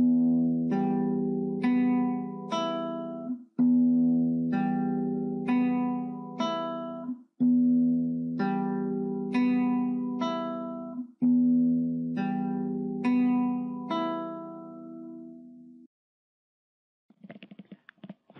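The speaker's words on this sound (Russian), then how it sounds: "Сейчас посмотрим, как это звучит на гитаре." A guitar fingerpicking pattern in a repeating arpeggio, four clear cycles of plucked notes ringing close and clean, followed by a short silence and a faint brush of strings at the end.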